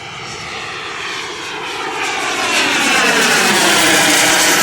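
A Flyfly Hobbies Viper 2.2 turbine RC jet makes a high-speed pass, its loud turbine whine and rushing roar building steadily as it approaches close overhead.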